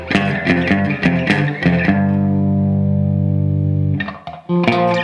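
An electric guitar with heavy distortion and high gain plays the Mission Impossible rhythm riff: a burst of choppy repeated notes, then one long ringing chord, then more clipped stabs.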